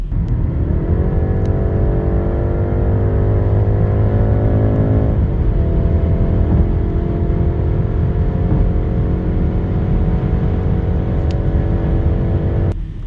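BMW X3 20 xDrive G45 engine accelerating from inside the car, a loud steady mid-pitched drone that climbs in pitch, drops back at a gear change, then climbs again for the rest of the run.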